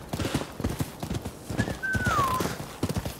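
Steady clip-clop of horse hooves from Rise of the Ronin, trotting in an even rhythm close by, with a brief horse whinny rising over them midway through.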